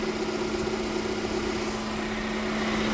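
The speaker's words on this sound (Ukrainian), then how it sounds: "Ось він, двохлітровий бензиновий двигун." A 2011 Hyundai Tucson 2.0-litre petrol engine with LPG conversion idles steadily under the open hood, a constant close hum with a low drone and faint vibration and no speech.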